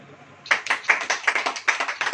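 Clapping starts suddenly after a quiet moment at a church sermon, with sharp, roughly even claps in a steady rhythm from a small group nearby.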